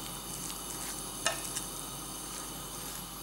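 Taco filling sizzles steadily in a hot pan on the stove while it is stirred, a dense, even frying hiss with a couple of faint scraping clicks partway through.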